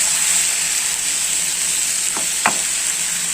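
Squid masala sizzles steadily in a pan, with two quick scraping clinks of the stirring spoon near the end. The sound is close and loud, and no one speaks.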